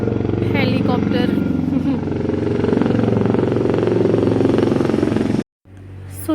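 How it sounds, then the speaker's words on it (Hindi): Deep rhythmic thudding of a helicopter rotor overhead, loud and steady, on a rain-wet road in Arunachal Pradesh, with a voice speaking over it before the sound cuts briefly. "हेलीकॉप्टर।"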